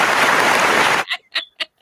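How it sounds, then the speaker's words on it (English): A host's clapping sound effect on a line dance talk show: about a second of dense applause-like clatter that cuts off abruptly, followed by a few short, separate bursts. "I give you a clap."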